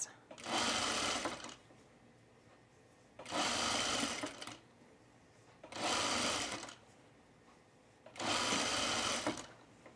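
A sewing machine stitching a straight hem on a pullover camp shirt, four loud close bursts of rapid whirring stitching separated by short pauses, with no talk.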